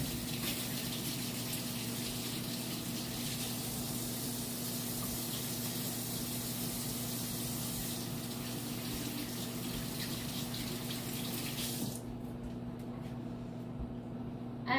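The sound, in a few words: washing hands under running water at tap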